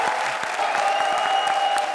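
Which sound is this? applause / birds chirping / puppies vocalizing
applause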